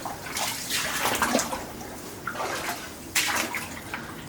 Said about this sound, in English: Just a bit of water in here, not too bad.